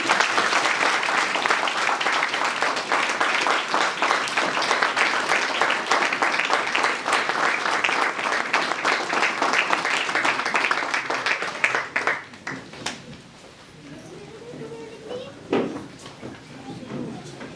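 Crowd at a BJP party office gathering in India claps loudly in welcome, a dense sustained round of applause lasting about twelve seconds before fading into scattered room noises and shuffling.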